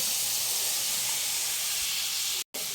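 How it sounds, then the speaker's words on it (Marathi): Capsicum dropped into hot oil in a pan gives a steady, close, bright sizzling hiss, briefly cut off near the end before resuming. "तेल जे आहे ते छान तापून झालेलं आहे आता यामध्ये मी शिमला मिरची टाकणार आहे"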